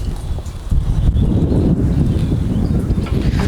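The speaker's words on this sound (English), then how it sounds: "We got a little bit of wind here." Gusty wind outdoors beside a Lone Star Grillz 24x40 offset smoker with a wood fire, a steady loud rumbling whoosh buffeting the microphone with no speech.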